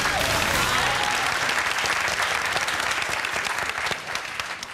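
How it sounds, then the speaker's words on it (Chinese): A studio audience bursts into sustained, dense applause to welcome twenty new production staff on a Taiwanese variety talk show, loud and continuous before easing slightly near the end. "你会拍手欢迎他们"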